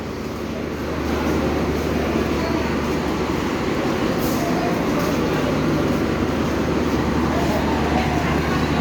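A train idles and rumbles at Chatmohar railway station in Pabna, a loud, steady low drone that swells after the first second and holds, with faint talk around it.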